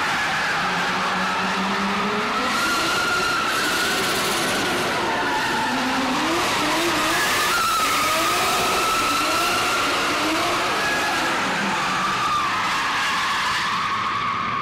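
A drift car slides sideways under heavy throttle, its tires squealing in long wavering tones over a constant roar of engine and road noise, close and loud throughout.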